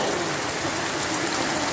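Steady evening rain falls on a veranda, a dense, even hiss of drops filling the air without break, close and soft, with no voices.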